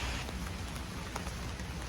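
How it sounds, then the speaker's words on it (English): Steady, dense rain hissing across the whole clip, a constant wash of drops on a surface with no voices. "It started raining really hard right as we were about to leave."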